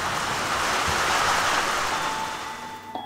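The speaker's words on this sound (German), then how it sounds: "Jetzt sitze ich hier in einem schönen Bushäuschen und warte darauf, dass der Regen aufhört." Steady, dense rain heard from inside a bus shelter during a motorcycle trip through the Romanian Carpathians, a continuous loud hiss that eases slightly near the end.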